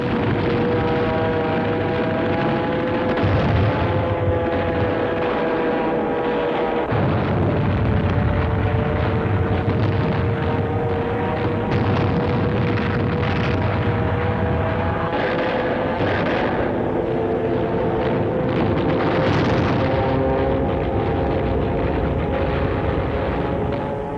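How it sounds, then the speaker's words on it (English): Loud, continuous roar of diving suicide planes with droning harmonic tones, overlaid by rumbling explosions and battle noise throughout, off Okinawa. "further waves of suicide planes dove into U.S. ships"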